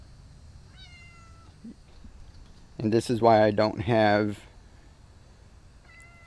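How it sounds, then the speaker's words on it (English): A stray neighbourhood cat meows loudly and close by in one long, drawn-out wavering call, with a few fainter meows before it and another after. Someone talks in between outdoors. "He's a neighbor cat. He's like a stray or something."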